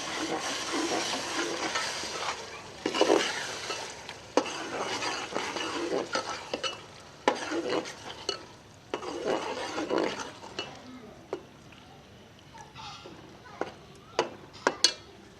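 Half a kilo of chicken mince is stirred in a pan for aloo keema, with a spoon scraping and clattering against the metal in uneven strokes over a soft sizzle, the stirring thinning out to sporadic clinks toward the end.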